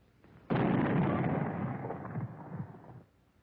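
A single heavy blast from an anti-tank rifle in a 1942 wartime training cartoon, loud and booming, then tapering over about two and a half seconds into quiet, no speech.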